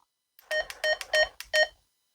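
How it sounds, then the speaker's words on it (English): A short electronic roger beep from a Midland X-Talker FRS two-way radio: a quick series of four or five clipped tones in a brief melodic burst, clear and close, then silence. "There's your Roger beep, everybody's favorite."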